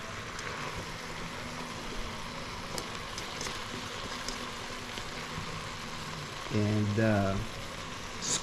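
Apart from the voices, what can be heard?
okra and eggplant sizzling as they are stirred in the pan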